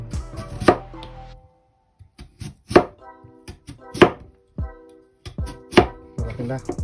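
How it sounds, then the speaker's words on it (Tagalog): Knife slices peeled vegetables into thin, small pieces on a board for no-rice veggie sushi, giving about five sharp chopping knocks spaced irregularly over steady low room noise, close and fairly loud, with no talking. "ito naman, hiwain din natin ito ng maliliit, ng maninipis."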